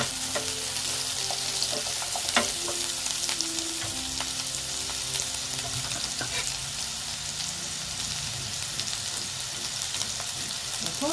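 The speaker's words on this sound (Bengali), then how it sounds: "একটু হলুদ দিয়ে দিলাম দিয়ে আলুগুলো ভেজে নিচ্ছি" Potatoes frying in hot oil with turmeric for a spiced soybean and egg curry, giving a steady close sizzle with scattered stirring clicks and scrapes throughout, no talking.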